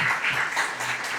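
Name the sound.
congregation applauding in church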